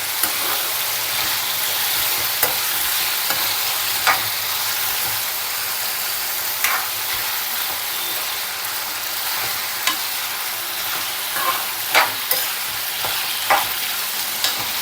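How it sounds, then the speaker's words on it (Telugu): Potato pieces frying in a small amount of oil are stirred in the pan, giving a steady sizzle with periodic scraping clinks from the spoon at an irregular pace, close and fairly loud throughout. "ఈ విధంగా వేసుకున్న ఆలు ముక్కలు అన్నిటిని ఇలా మంచిగా కలుపుకోవాలి"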